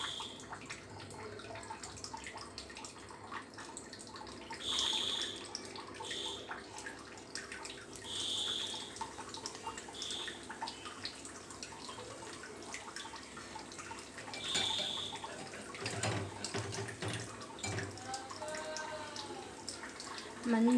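Green chillies dropped into hot oil for mirchi bajji: a soft, continuous bubbling sizzle with faint splutters and occasional bursts, heard alongside a nearby voice.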